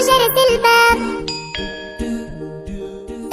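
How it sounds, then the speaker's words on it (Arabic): A doorbell chimes in a children's song, ringing clear repeated bell tones over a steady rhythmic musical backing, with a ding-dong pattern recurring about every half second. "فجأة سمعوا جرس الباب"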